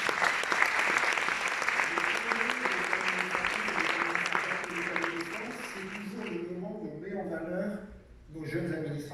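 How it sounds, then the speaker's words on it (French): An audience applauds at the opening speech of the 31st AATF congress, sustained clapping for about six seconds that fades out before a voice starts talking at a podium. "Vous pouvez l'applaudir."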